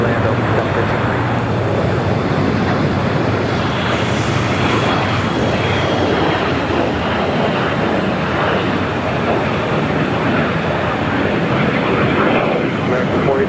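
Aircraft at Los Angeles International Airport, a loud, continuous jet engine roar that holds steady without a break, with radio voices faintly audible beneath it.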